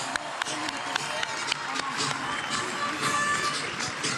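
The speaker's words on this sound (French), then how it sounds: "Et on entend les applaudissements là, de toute une foule." A big crowd applauds as parachutists land at the Vieux-Port in Marseille during a 14 July display. The clapping is a steady, broad wash with a few sharper claps on top, and voices talk over it.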